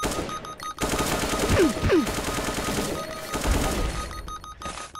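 Automatic gunfire rattles in a shooting video game boss stage, bursts of rapid shots running through most of the stretch with whooshing effects and short quieter gaps, fairly loud with no clear speech.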